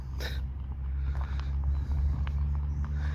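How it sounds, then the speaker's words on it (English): Road traffic near a cemetery, a low steady engine rumble from passing cars, moderately distant, with a brief rustle early on and wind buffeting the microphone. "Traffic's picked up again, which is typical."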